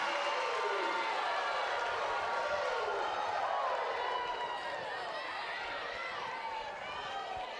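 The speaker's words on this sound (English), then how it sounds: "Big crowd here." A big crowd roars and cheers at Jack Turner Stadium during a Mississippi State vs Georgia college softball game, a loud, continuous wash of voices with scattered shouts, likely under an announcer's talk.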